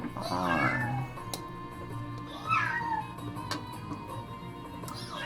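A pet cat meows twice in a house, each call loud and close, drawn out and rising then falling, with quieter room noise between the calls.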